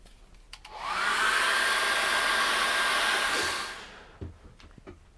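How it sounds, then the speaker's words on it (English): A hair dryer drying acrylic paint switches on and blows with a loud, steady whoosh for about three seconds, then winds down, leaving a few quiet knocks. "I want to dry that off with a hairdryer."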